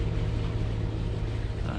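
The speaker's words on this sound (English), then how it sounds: "just slowly meandering with one engine going" A catamaran motors slowly down a jungle river in Guatemala on one engine, giving a steady low droning hum with constant wash and wind noise and no break.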